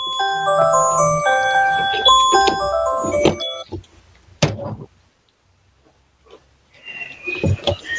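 An electronic alarm melody chimes in bright repeating tones, then cuts off into near silence before a few softer beeps and knocks return.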